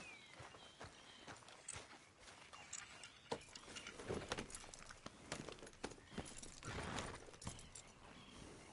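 Horse hooves clip-clop at a walking pace in the video game Red Dead Redemption 2, over a quiet outdoor ambience, with a few louder thumps and rustles mixed in.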